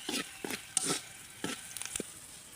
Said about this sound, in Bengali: আর এই যে রসুন পেঁয়াজ কাঁচামরিচটা ভাজা হয়ে গেছে